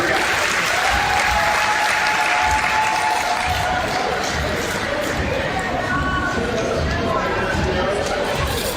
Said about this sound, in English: Big round of applause for the referees for the game.